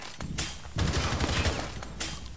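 Shotgun blasts in Rainbow Six Siege, a few sharp loud shots spaced unevenly, each with a heavy boom and a rattling tail, no talking.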